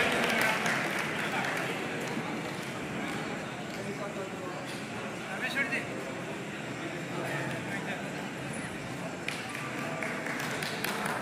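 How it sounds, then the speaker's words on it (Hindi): A gathering at a district-level teachers' association conference in Udaipur claps to welcome guests, with steady crowd applause running throughout and talk and voices mixed in over it. "सभी तालियों से स्वागत करें भाई"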